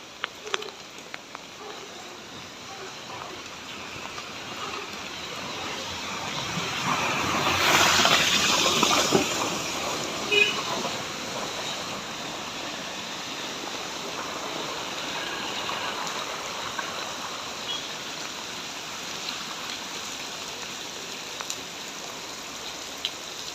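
A small rainwater stream runs through a Konkan village in Sindhudurg during monsoon rain, its steady broadband trickle and patter continuous throughout, swelling louder for a few seconds midway before settling back.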